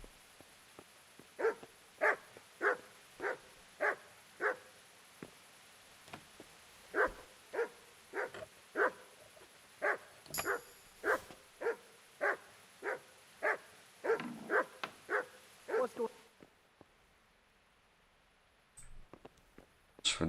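Dogs bark repeatedly in Kingdom Come Deliverance, steady rhythmic barks in several bursts, fairly close and loud, with a brief pause midway and quiet near the end.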